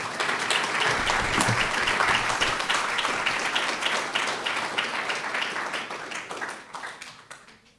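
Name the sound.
audience applause for a panel speaker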